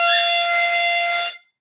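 A single harmonica F drawn in through hole 12, one bright steady reedy tone held for just over a second, loud and close, then cut off cleanly into silence.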